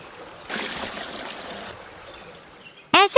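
A cartoon splash as water is thrown onto an injured bird at a lake: a short burst of pouring, splashing water, then a trickle fading out before a sudden bright chirpy effect at the end.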